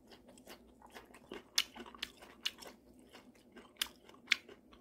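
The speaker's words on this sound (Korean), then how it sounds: "막장을 한번 찍어 먹어보겠습니다." Someone chews wild rose shoots dipped in homemade makjang soybean paste, with faint, close crunches and bites scattered irregularly over quiet background noise.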